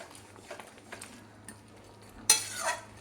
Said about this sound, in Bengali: একটু নাড়াচাড়া করে ভালো করে মিশিয়ে নিই।